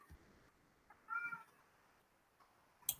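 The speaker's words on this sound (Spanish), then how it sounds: "¿Y escuchan un gato por ahí?" A house cat meows once, quiet and somewhat distant, in a faint indoor room with a few small clicks around it.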